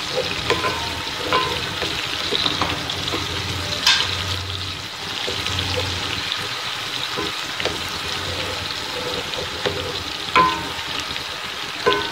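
Steady crackling sizzle of onions frying in oil, with occasional stirring scrapes and clinks, fairly close.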